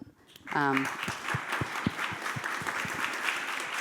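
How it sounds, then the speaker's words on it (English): Audience applause at a keynote address, rising suddenly after a brief spoken tone and continuing as a steady, moderately loud wash of clapping with distinct louder claps near the microphone. "So we can applaud for that."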